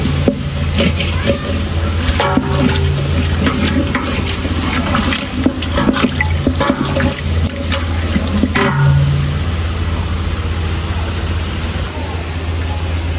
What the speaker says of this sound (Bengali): মশলাটা ঢেলে দিয়েছি তেলের মধ্যে আমি ভালো করে মশলা কষাই নেব